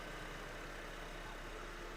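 A 2008 Honda Accord engine idles in a steady, even hum with a low drone, continuous and alone at moderate distance, no voices present.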